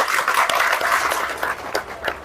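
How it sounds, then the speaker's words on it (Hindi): Short burst of clapping from a training audience at a safety motivational session, brisk and moderately loud, with individual claps standing out. "तालियां खुद के लिए"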